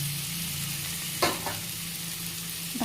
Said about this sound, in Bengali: হলুদ দিয়ে দিলাম, দিয়ে একটু ভালো করে নেড়ে নেব।